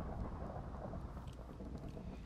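Steady Minecraft rainfall with a soft, low thunder rumble underneath, faint and continuous, with no one talking.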